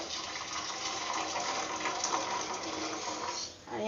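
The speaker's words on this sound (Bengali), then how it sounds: "বাটি ঢেলে দিই ঢেলে দিচ্ছি দুধটা ঠান্ডা করতে দেবো" Hot milk poured into a bowl in one steady, rushing stream that runs for about three and a half seconds before tapering off, heard close and alone.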